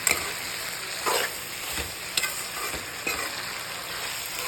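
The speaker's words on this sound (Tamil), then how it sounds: "தக்காளி வெங்காயத்துலேயே இன்னும் கொஞ்சம் நேரம் வதக்கலாம்." Tomatoes and onions sautéing in a pan for a bitter gourd curry, a steady close sizzle with a few soft spoon-stirring scrapes at intervals over about four seconds.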